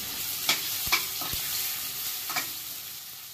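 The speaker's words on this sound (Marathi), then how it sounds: "आलं लसूण पेस्ट व्यवस्थित परतून घेऊ।" Ginger garlic paste fries in hot oil for potato rassa bhaji, a steady soft sizzle broken by a few sharp clicks of a spoon stirring against the pan, close and without talk.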